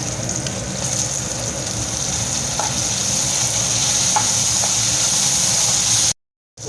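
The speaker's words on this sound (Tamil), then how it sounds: "வெங்காயமும் பூண்டும் செவந்துட்டு நல்லா வதங்கிட்டு நம்ம தக்காளி சேர்த்துக்கலாம்." Onion and garlic fry in oil for an okra kara kuzhambu. A steady, close, hissing sizzle continues without a break, then cuts off abruptly near the end.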